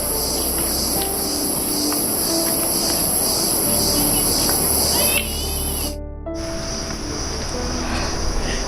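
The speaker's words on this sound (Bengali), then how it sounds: "শুধু মানুষের চলার শব্দ আর ঝিঝি পোকার শব্দ" Crickets chirp steadily in a high, continuous drone along a mountain trail in the Himalayan Madhmaheshwar area, with faint footsteps and rustling underneath and a brief dropout near the end.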